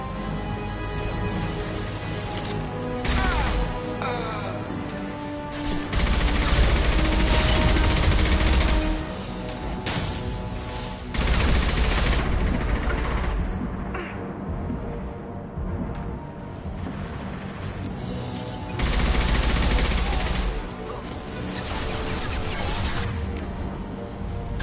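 Rapid bursts of weapon fire in Mass Effect 2 combat, loud repeated volleys and crashes over a dense game soundtrack, with several heavier surges spaced through the stretch.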